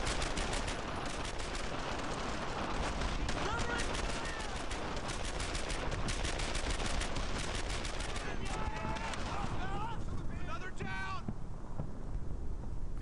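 Suppressing gunfire in the World War II video game Brothers in Arms: Earned in Blood, a continuous dense barrage of rifle and machine-gun shots from start to finish, loud and close, with faint shouted voices near the end.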